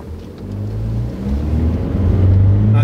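A SsangYong Musso 2.2 pickup with a six-speed automatic launching hard from a standstill, its loud engine drone climbing steadily in pitch for a few seconds.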